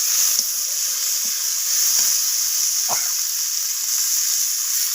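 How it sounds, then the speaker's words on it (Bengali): Shredded cabbage goes into hot oil with cumin and Bengali five-spice tempering, giving a steady bright sizzle with occasional soft stirring scrapes and a few pops. "এবার আমি ফোড়নের মধ্যে বাঁধাকপিটাকে দিয়ে দিলাম"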